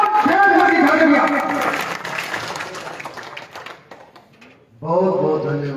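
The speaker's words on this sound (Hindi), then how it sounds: "जोरदार तालियों के साथ श्रीमान नरेंद्र मोदी धन्यवाद" A crowd claps for a political speech at Nandlal Chowk in Bhadra, with scattered, uneven applause in the middle, while an amplified voice talks over it at the start and resumes at the end.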